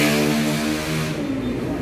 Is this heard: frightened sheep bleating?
no